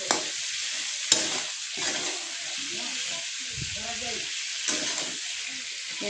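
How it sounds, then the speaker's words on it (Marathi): Fresh farm brinjal sautéing in hot oil, a continuous close sizzle with occasional spatula knocks and stirring scrapes. "तेलात चांगलं परतून घ्यायचं वांगी"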